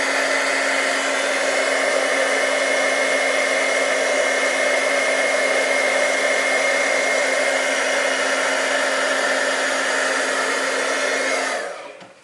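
Heat gun blowing over embossing powder on a card, a continuous loud whirring roar with a steady hum underneath, lasting about eleven seconds without a break before it switches off. No talking is heard.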